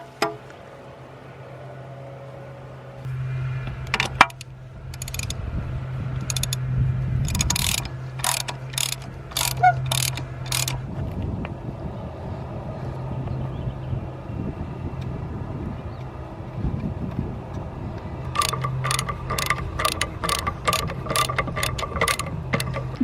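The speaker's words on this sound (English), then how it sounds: "Using a socket really makes it easier, and you can get the plug way tighter." A socket ratchet clicks in short bursts while tightening a plug on a garden fountain pump, close and fairly loud over a low steady hum, with a few rapid clicking runs near the end.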